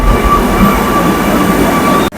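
A Kochi Metro train pulls into Town Hall station, giving a loud, steady rolling rumble with a faint high whine from the wheels and motors, sustained throughout, then a sudden dip at the end.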